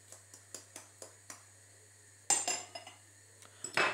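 Garlic is crushed for chicken patties: a run of sharp, evenly spaced clinking taps, then a pause and a louder, rougher burst of knocking and grinding strikes, close and alone.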